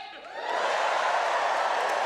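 Opening night audience at the Melbourne International Comedy Festival Allstars Supershow whooping and cheering, a broad crowd roar that swells after a brief dip and holds steady and loud.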